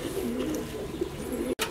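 Fancy pigeons coo steadily at a large pigeon farm in Multan, Pakistan, a close, continuous low murmur of overlapping calls that drops out briefly just before the end.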